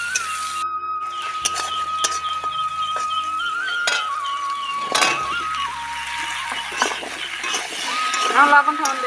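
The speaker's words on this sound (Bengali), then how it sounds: "এখন রান্না হচ্ছে মাছ আলু তার জন্য পিঁয়াজ আর লঙ্কা এভাবে ভেজে নেওয়া হবে" Onion and chili frying in a pan for a home-style fish and potato curry: a soft, steady sizzle with occasional clinks of utensils, heard close but mostly under a voice talking throughout.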